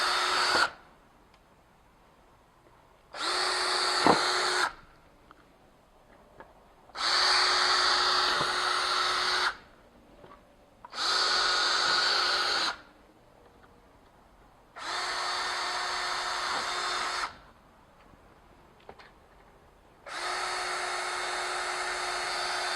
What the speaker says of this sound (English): And you're going to simply drill at the appropriate spots.